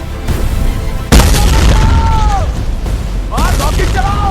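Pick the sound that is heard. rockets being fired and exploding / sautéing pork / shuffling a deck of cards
rockets being fired and exploding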